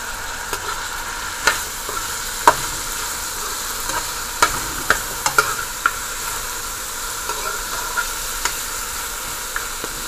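Barbecue beef frying in a pan, a continuous close sizzle broken by scattered sharp pops and scraping stirs, with no voices.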